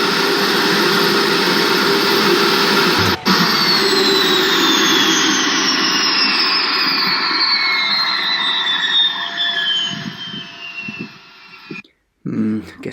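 Jet-engine-powered lathe spooled up to 115% revs roars loudly with a rising turbine whine and a sheet-metal piece spinning, then the engine note drops off and cuts out abruptly near the end.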